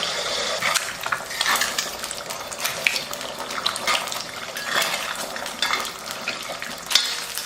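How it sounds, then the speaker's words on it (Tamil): Eggs frying in hot oil for restaurant-style egg fried rice, a dense close sizzle with repeated scraping stirs and metallic ladle taps against the pan, continuous and fairly loud. "இந்த எண்ணெயில் வந்து ஒரு அஞ்சு முட்டையை வந்து நம்ம உடச்சி ஊற்றி பொறிச்சு எடுத்துக்கலாம்"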